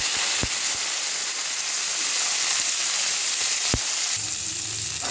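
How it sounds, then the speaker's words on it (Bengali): Cauliflower pieces fry in hot oil in a pan, giving a steady, close, bright sizzle with a couple of sharp pops or clinks, until the hiss suddenly drops away near the end. "এবার তেলটা দেবো, তেলটা দিয়ে ফুলকপিগুলো ভেজে নেব"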